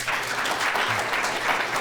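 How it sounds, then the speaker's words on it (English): An audience at a Portland Community College talk claps to welcome the speaker, a brief, even wash of many hands at moderate volume with no talking. "Mr. Todd, let's clap for him and welcome him."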